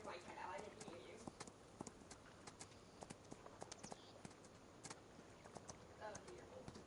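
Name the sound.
horse hooves clip-clop while riding, Farming Simulator 25 video game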